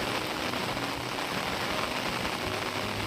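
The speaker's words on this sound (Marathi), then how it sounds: "खूप पाऊस जोराचा आलेला आहे" Heavy rain pours steadily outdoors in open countryside, a dense, continuous wash of drops drumming on surfaces, loud and close with no talking.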